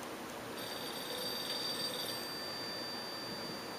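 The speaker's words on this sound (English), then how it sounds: "Oh, phone's ringing." Telephone ringing in the GameCube-era horror game Eternal Darkness, a steady electronic bell tone sustained at moderate level with no voices over it.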